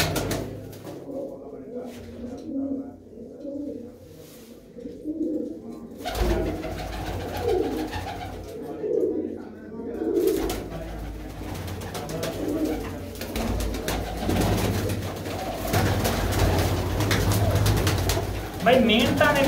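Pigeons at a fancier's loft in Dhamot village coo on and off across a long stretch, mixed with fluttering and handling noises while someone talks over them.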